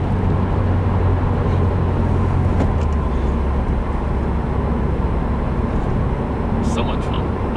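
A tuned 2015 Subaru WRX running E30 fuel pulls hard in first gear, a loud steady engine roar with rushing road and wind noise filling the whole stretch.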